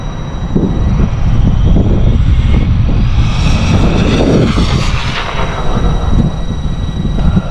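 Traxxas 4TEC VXL RC car speeding by outdoors into a headwind, a loud, continuous roaring whine with heavy wind rumble that swells in the middle and stays strong throughout.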